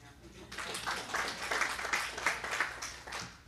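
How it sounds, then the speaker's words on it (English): An audience at a Bridgeport, West Virginia city meeting claps after news of falling overdose deaths. The fairly quiet, even applause starts abruptly after a brief pause, and faint voices murmur beneath it. "It's a good time to clap."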